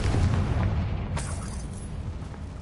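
A Confringo blasting spell explodes in Hogwarts Legacy: a deep, sustained rumbling boom that fills the whole moment and slowly fades, with no talking over it.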